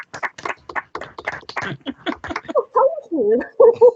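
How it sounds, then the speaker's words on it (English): Scattered clapping from online meeting participants all unmuted at once, uneven overlapping claps from separate microphones, with voices chiming in toward the end. "Let's try unmuting everybody and applauding."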